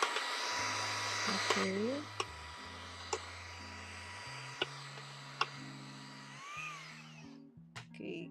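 A vacuum cleaner runs with a steady motor whine and broad hiss while a craft room is tidied, holding on for most of the stretch under a person's speech and a few sharp clicks before it tails off near the end.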